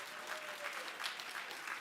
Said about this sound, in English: maybe an extra special round of applause for Kid Governor Keudy's family who is here